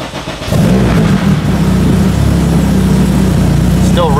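A car engine catches and runs steadily after a coolant refill with a funnel in place, holding a loud, even drone with slight revving, and a brief voice near the end.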